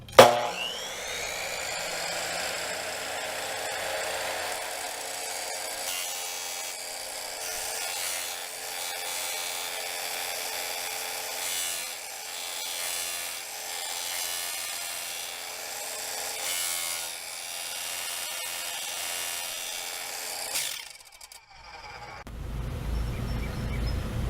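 A hand saw cuts steadily through a metal strut part from a 1973 Volkswagen Super Beetle, with continuous back-and-forth rasping strokes for about twenty seconds, then stopping just before a sharp snap.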